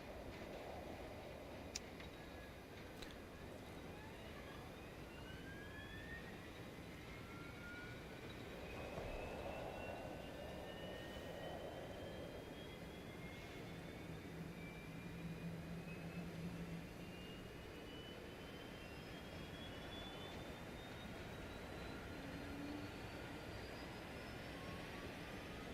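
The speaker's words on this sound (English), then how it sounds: "APU spooling back down." The auxiliary power unit of a Boeing 727 in Microsoft Flight Simulator winds down in the cockpit: a steady broadband roar with faint whining tones that glide slowly upward over about twenty-five seconds, low and even throughout.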